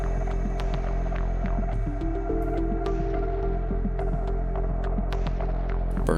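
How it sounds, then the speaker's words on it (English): With the belt removed, an engine with a burnt-up, failing starter cranks over very slowly and laboriously, a loud continuous throbbing drone with a steady rhythmic pulse throughout. "Now I've got the belt off, so it's just the engine cranking over, and it still cranks over really slow."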